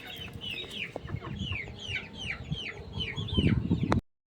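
Chickens and newly hatched chicks cluck softly while a run of high, repeated chick peeps sounds close by over a low farmyard background. The sound cuts off abruptly near the end.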